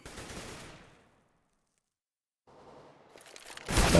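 Gunfire in Counter-Strike: Global Offensive on the Inferno map during a competitive match, heard as a rattling burst that dies away, then a pause before a second, louder volley builds up and ends on a sharp crack.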